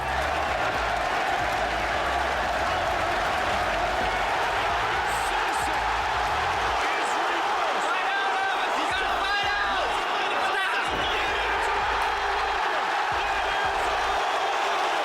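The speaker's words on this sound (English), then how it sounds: "the crowd roared even harder when he got the finish." A UFC arena crowd roars and cheers in a dense, continuous wall of noise, with scattered whoops rising through it and occasional sharp thumps.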